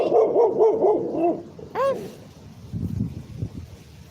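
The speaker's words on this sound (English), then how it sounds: "it's the most aggressive dog I've ever seen" A dog barks aggressively in a rapid run of loud, close barks, then a sharp yelp, before quieter rustling and low background noise take over.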